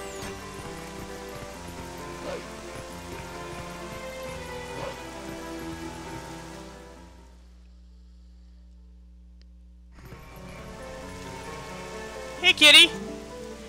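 Steady rain falls in the Zelda: Twilight Princess HD video game, a continuous hiss under game music that briefly drops to near silence before resuming, with a short spoken line near the end.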